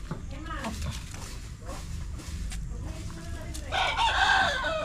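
A rooster crows at night on a Filipino farm, a fairly close, drawn-out call rising near the end, with people talking throughout and other fowl clucking around it.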